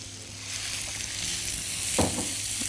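Onions sizzle in hot oil in a pan, a steady close crackling fry with a brief louder burst as they are stirred, and no talking.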